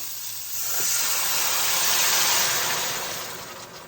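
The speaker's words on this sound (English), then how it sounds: "now I'm going to add some water." Water poured into a hot pan while making gravy sends up a loud, steady hiss of sizzling and steam that swells over a few seconds and then slowly fades, with no voices over it.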